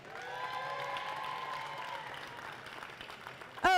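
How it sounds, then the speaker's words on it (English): An audience at a FIRST Tech Challenge robotics qualifier in Biloxi, Mississippi, applauds the event volunteers with a wave of clapping and scattered cheers that tapers off. Near the end there is a sudden loud close sound. "Now a big round of applause for all of our volunteers in St."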